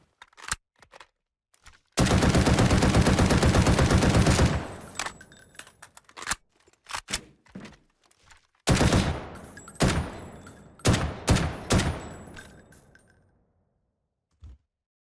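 Gunfire from a customized rifle in the Delta Force video game: a sustained two-second automatic burst, then scattered handling clicks, followed by further loud bursts and single shots, with no talk.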